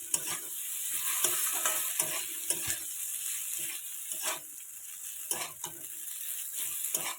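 Chow mein stirred with a metal spatula in a wok over a low gas flame, a steady sizzle of frying noodles broken by repeated scraping strokes against the pan, close and clear with no talk.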